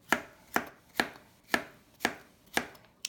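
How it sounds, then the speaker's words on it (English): A knife dices zucchini rhythmically on a cutting board, six crisp evenly spaced strikes about half a second apart, close and clear with no talking. "Once you cut it in half, you cut it into 4 pieces, and then we dice it."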